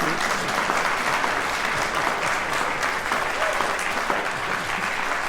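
Audience applause at a rehearsal of Schubert's Symphony No. 8 "Unfinished", a steady dense wash of clapping that holds at an even loudness for several seconds with no voices over it.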